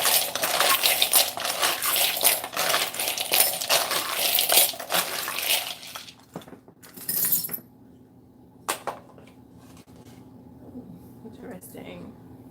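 Playing cards are shuffled up close: a dense, crackling riffle lasting several seconds, followed by scattered taps and flicks.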